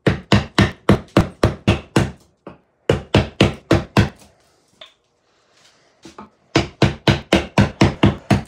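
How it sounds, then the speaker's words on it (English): A 20 mm number 9 gouge struck with a mallet while carving juniper wood, sharp close knocks in quick regular runs, pausing briefly, then resuming at the same steady beat. "Get a bigger gouge for this."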